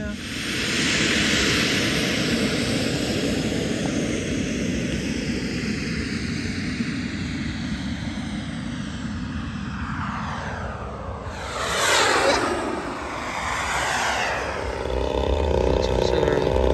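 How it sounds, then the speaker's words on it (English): An F-16 model jet roars overhead at the Huckfest flying event, a loud steady turbine whine that swells and shifts pitch as it passes, with outdoor crowd noise around. "got the F-16 out"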